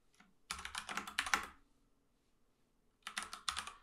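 Fast, close keyboard typing comes in two bursts, a file path entered on a computer keyboard, with a quiet gap between the runs of clicky keystrokes.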